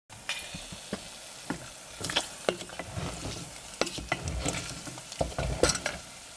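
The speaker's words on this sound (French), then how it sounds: "Le gras liquide s'accumule tandis que les lardons cuisent" Bacon lardons sizzle in a pan as they render fat for pemmican, the steady frying hiss broken by scraping stirs and clinks of a utensil against the pan, close and fairly loud.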